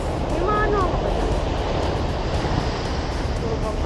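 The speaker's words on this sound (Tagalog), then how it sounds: "Ang lakas ng alon!" Strong high-tide surf churns and rushes continuously along the shore at El Nido, Palawan, loud and close with wind buffeting the microphone, while people talk over it.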